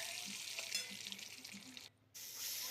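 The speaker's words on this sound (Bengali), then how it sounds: "তার জন্য ডিমটা ভেজে নিচ্ছি।" An egg frying in a pan for a Bengali curry, a steady close sizzle with light crackles that cuts out briefly before resuming just as strongly.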